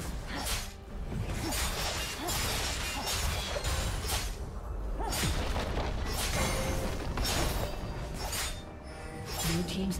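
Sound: turret being destroyed in League of Legends, from a video game

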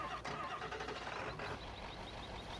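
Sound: Ford engine start sound, Farming Simulator 2015 video game mod

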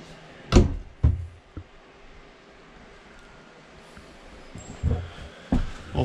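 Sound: pocket door sliding to bathroom in Grand Design Momentum toy hauler

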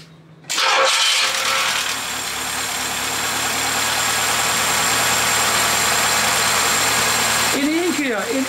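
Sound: car engine starting and idling after ignition adjustment

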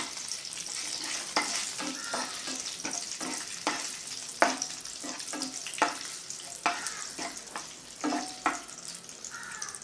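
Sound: rava roasting and being stirred in a pan

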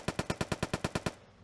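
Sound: automatic rifle gunfire in a video game

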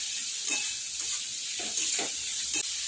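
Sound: vegetables sautéing in a pan

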